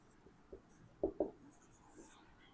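A pen scratches faintly on paper as a trigonometry solution is written out by hand, a few soft strokes close by in a quiet room.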